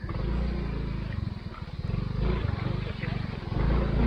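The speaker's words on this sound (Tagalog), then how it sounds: "Lupit ng motor ko." A motorcycle engine idles nearby on a trail ride, with a steady, throbbing low chug whose pulses rise and fall over a few seconds.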